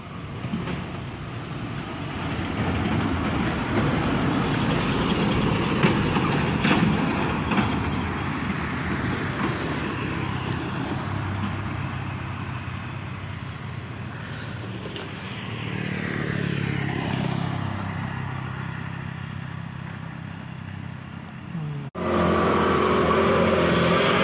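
An office dump truck loaded with sand grinds along a mountain road at Pegat, Lamongan, its engine a steady low drone close by, joined by other vehicles near the end.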